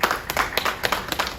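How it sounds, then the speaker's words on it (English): Brief round of applause at a society investiture ceremony, quick irregular claps from a small crowd, fairly close and loud. "So please, let's give him a round of applause."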